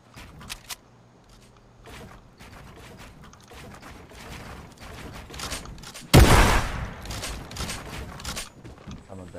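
Gunfire in a fast online shooter game, a sudden loud burst of shots with sharp crackling decay, preceded by scattered lighter clicks and game noise; no talk over it.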